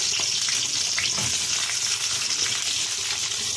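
Onions sizzling in hot oil in a home kitchen, a dense steady crackle and hiss with light stirring, close and loud, no voices.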